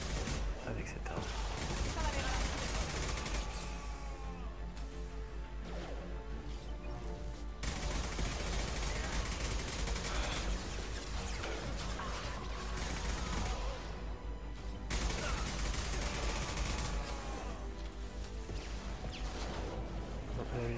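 Rapid sustained bursts of weapon fire from the video game Mass Effect 2, loud and dense across the whole stretch and layered over game ambience and voices.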